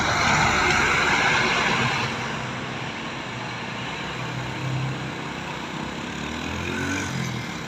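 A Kurnia AW bus passing on an Aceh road at night, a loud broadband whoosh and engine roar that peaks early and then eases into a steady, slightly fading rumble.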